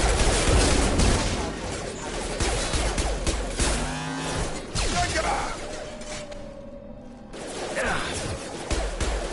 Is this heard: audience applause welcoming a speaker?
no